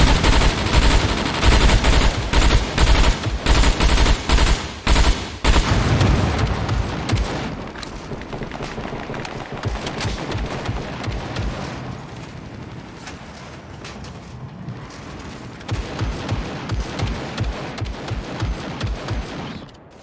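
Video game gunfire: rapid bursts of automatic shots and booming blasts, loud and dense at first, then thinning into sparser, quieter volleys before another burst of rapid fire near the end.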